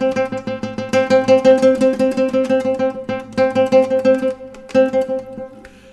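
Classical guitar plucked in a steady rhythm, with the picking position along the string shifting to mimic a wah effect, giving a gently swelling and fading tone over repeated notes; close and solo, no voices.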